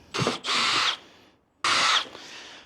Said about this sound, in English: Simply going to drill them out.